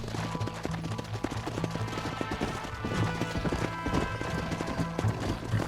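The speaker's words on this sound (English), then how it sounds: "Mount your horse!" Rapid hoofbeats of a galloping horse pound steadily in Red Dead Redemption amid a busy, loud game soundscape, with faint shouting mixed in.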